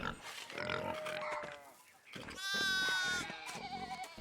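Sheep bleating in the video game Pentiment: two wavering, nasal bleats close by, the second louder and longer, with soft background sound between them.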